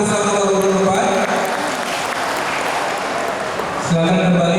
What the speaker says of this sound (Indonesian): Salam tepuk tangan untuk pasangan nomor 4.